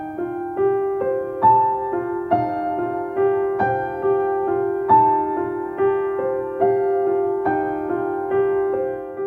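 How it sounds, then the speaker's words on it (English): A highly reverberant piano plays a steady, gentle run of notes, each one droning on and blending into the next in a wash of echo, close, even and alone without any voice. "For example, a highly reverberant piano sounds like this."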